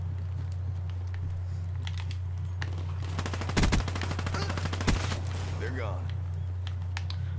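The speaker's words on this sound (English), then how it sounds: "I was getting shot at both ways." Rapid bursts of M8 rifle fire in a multiplayer shooter game ring out amid a steady low hum, with a denser volley around the middle and another burst near the end; voices chatter over the top.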